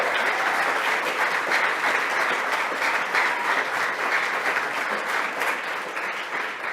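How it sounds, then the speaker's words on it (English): An audience claps steadily in sustained applause at an event launching the UN Decade of Indigenous Languages, a dense even wash of hands fading slightly at the end. "Zach Willier, and Beatrice Deer, round of applause for sharing."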